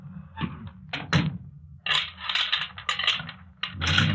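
In a 1944 radio drama, a door is shut with a series of clunks and rattling latch and mechanism noises, sharp and close, spread over a few seconds with no speech.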